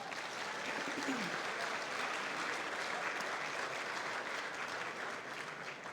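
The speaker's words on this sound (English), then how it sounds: "Let's give Amazon a round of applause." Audience applause fills a gala hall in Seattle, a dense, steady wash of clapping from a large crowd that holds at an even level for the whole stretch.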